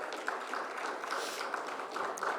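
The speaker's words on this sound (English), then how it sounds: "Can we have a big round of applause for Mr. Gupta?" A conference audience applauds a guest speaker, giving a steady, moderately faint wash of many hands clapping with no voices over it.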